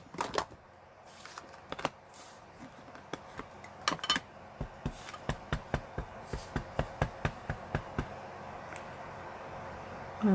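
Rubber stamp pressed onto card in a paper-crafting session, a string of sharp, close taps in an even rhythm, each a crisp knock on the table, rising from scattered hits to a steady run of about a dozen.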